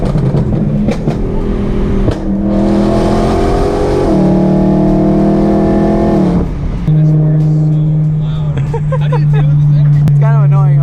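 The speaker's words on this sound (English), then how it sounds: "I want to hear the car" A BMW E92 M3 drives a canyon road with a loud exhaust. Its engine drones strongly and steadily and climbs in pitch through the gears, heard from inside the car with the windows down while people talk over it.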